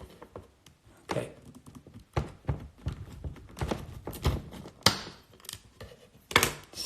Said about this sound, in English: I'm actually going to cut this one open and show you.